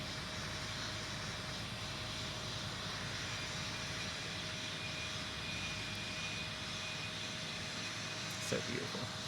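Simulated airliner taking off at Raleigh-Durham airport in a tower control game, a steady broad engine roar holding at moderate level throughout with a faint steady whine, alone without talk.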